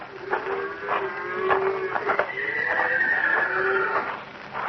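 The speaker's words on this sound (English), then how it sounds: "One of the horses must have walked down the trail a piece." A horse whinnies repeatedly at night on a trail, long shrill neighs with wavering pitch filling the clip, fairly close, with no talking.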